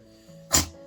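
A single short, sharp sneeze from a dog with heart failure, quick and close, in an otherwise quiet room.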